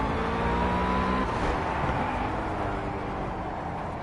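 A race car engine in the Project CARS racing game drones steadily as the car warms up, a continuous loud mechanical tone that shifts slightly in pitch with no speech over it.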